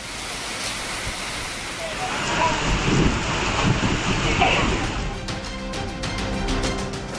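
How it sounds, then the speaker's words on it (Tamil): Heavy rain pours steadily across Pudukkottai, a dense, continuous hiss of water on surfaces with low rumbles beneath, building slightly in the middle before holding level. "புதுக்கோட்டை சுற்றுவட்டார பகுதிகளில் பரவலாக கனமழை பெய்தது."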